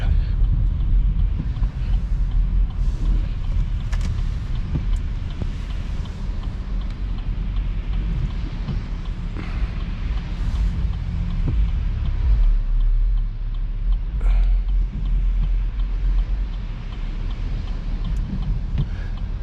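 A car travels along a snowy road during a beginner driving lesson, with a steady low rumble of tyres and engine and constant wind buffeting heard from inside the cabin.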